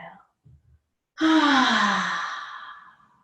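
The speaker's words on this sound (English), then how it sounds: "exhale through the mouth" A long, loud exhale through the mouth during yoga breathing, a single sustained breathy sigh that slowly fades, preceded by a few faint soft sounds.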